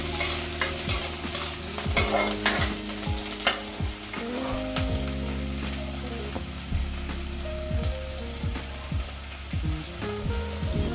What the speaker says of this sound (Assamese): দিয়াৰ পিছত ধুনীয়াকৈ মিক্স কৰি দিম।